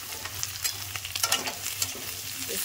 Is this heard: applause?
no